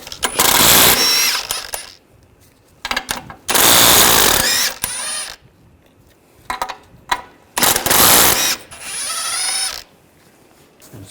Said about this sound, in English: Using a 16mm socket, we're going to take off all the nuts for the ball joint.